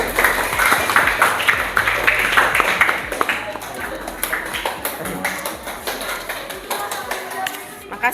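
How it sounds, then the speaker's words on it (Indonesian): Students in a classroom give applause for their groups, a dense patter of clapping that fills the whole stretch, loud at first and thinning slightly toward the end, with voices mixed in. "Silakan duduk, aplaus dulu untuk kelompok 1 dan kelompok"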